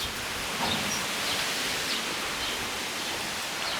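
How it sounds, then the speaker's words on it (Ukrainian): Steady, loud broadband wind roar fills a garden, a constant rushing hiss with slight swells and no voices. "Вітер такий серйозний."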